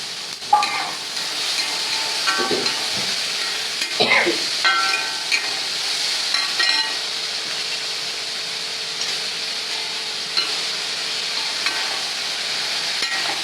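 Onions with dried red chillies and a green chilli, salted, frying in a pan for tomato-mint chutney, giving a steady moderate sizzle with occasional stirring scrapes and clinks throughout.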